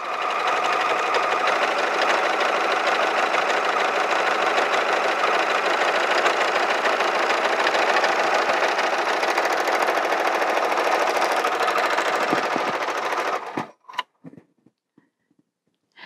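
A Bernina overlocker runs at steady high speed sewing seams on knit fabric, a loud continuous close whirring hum for about thirteen seconds before stopping, followed by a few faint clicks and handling sounds.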